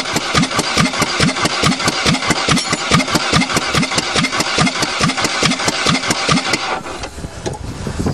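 A Mercury Topaz car flattened by a 20-ton bulldozer starts up and runs rough on one good cylinder while leaking fuel. Loud, rapid, evenly spaced chugging pulses continue steadily, then drop off and thin out in the last second.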